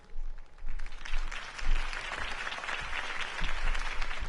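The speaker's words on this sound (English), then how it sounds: "could have heard that applause" A crowd claps and cheers after a campaign speech in the Batman Telltale video game, a broad, sustained wash of applause rising and holding loudly throughout.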